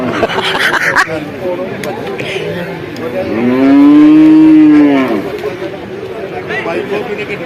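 Cattle and buffalo calves at a Perumbilavu livestock market, with one loud, drawn-out moo rising in the middle over steady crowd chatter and background market noise.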